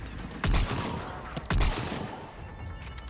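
Two heavy gunshot bursts in Mass Effect 3 ring out about a second apart, loud and close, each trailing into a ringing echo over a low ambient background.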